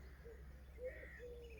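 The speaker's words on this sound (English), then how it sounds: "got an accompaniment of wood pigeons and crows in the distance" Soft cooing of wood pigeons at dawn in a Norfolk farm garden, faint and distant over a low steady hum, with a few brief calls drifting in the background.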